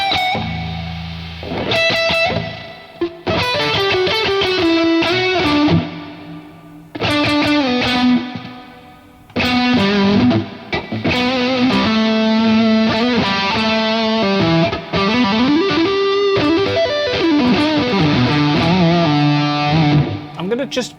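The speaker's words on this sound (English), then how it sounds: "Could we hear it without the delay, just so we can just hear what the reverb's doing?" A synth lead in Lumos plays a melodic line with gliding pitches, bathed in dark, washy reverb with no delay, the reverb lingering in short gaps between phrases.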